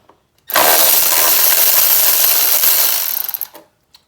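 Tool loosening a bolt on a Toyota Prius engine during head gasket work, a loud steady whirring burst lasting about three seconds that tails off in a few quick clicks, with silence before and after.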